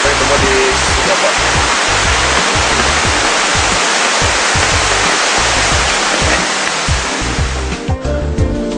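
Gemagu River rushing beneath a bridge near Ugimba village in the Papuan highlands, a loud, dense, continuous roar of turbulent water filling the whole stretch, with no voices audible.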